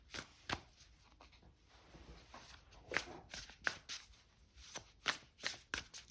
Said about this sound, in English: No wonder this deck is so popular, because it shuffles even.